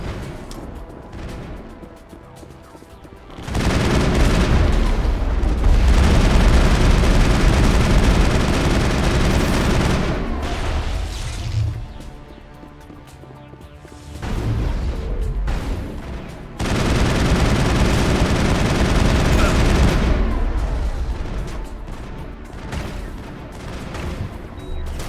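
Heavy, sustained gunfire in Mass Effect 1 roars in long loud bursts of several seconds each, separated by quieter lulls, close and dominant.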